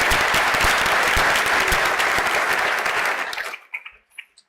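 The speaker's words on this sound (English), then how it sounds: "give them a round of applause" Loud, close applause from a graduation ceremony audience, many hands clapping steadily before tapering off over the last second into a few scattered claps and near silence.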